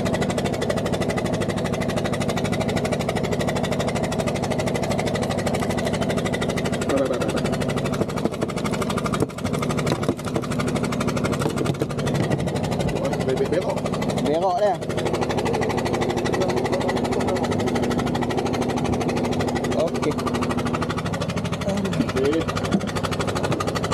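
A boat motor runs steadily on a river trip, a continuous droning hum that fills the whole stretch at an even level while people talk over it.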